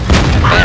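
A tank cannon shot in World of Tanks, a single loud deep boom with a rumbling tail, brief and close, overlapping a voice.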